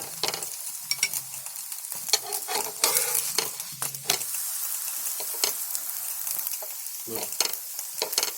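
A stuffed potato flatbread roasting in ghee on a hot griddle gives a soft continuous sizzle, broken by scraping and tapping from a spatula as it is turned and pressed, close up with no talking.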